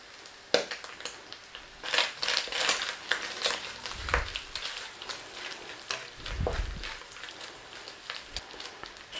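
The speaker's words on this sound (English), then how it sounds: "Crisp up your bacon and we're taking it out." Bacon crackles and sizzles in hot oil in a pan, with irregular pops and spits over a soft frying hiss, moderately close and fairly quiet.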